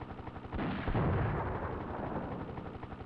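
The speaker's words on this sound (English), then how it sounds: "I hear gunfire, but I don't see anyone." Gunfire from the video game Desert Strike: Return to the Gulf, a dense rumbling barrage of distant shots and booms that swells after the first half second and keeps going steadily without any talk.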